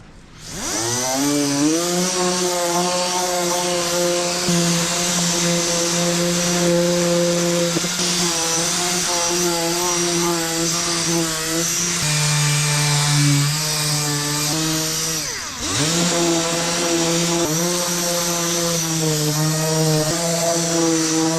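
A power sander whines steadily and loudly on a new 2005 GMC Sierra bumper cover for the whole stretch, its pitch dipping and rising as pressure on the surface changes.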